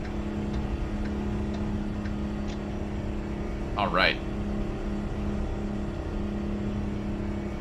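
A steady low engine drone from an old Mack truck rumbles continuously in American Truck Simulator, with a brief rising whine near the middle, while someone speaks over it.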